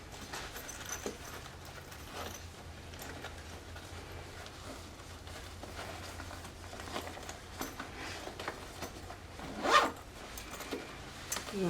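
Zipper on a handmade Sew Sweetness Tower Messenger bag being pulled open and shut in a run of quick, soft rasping strokes, close and quiet, with a sharper zip near the end and no talking.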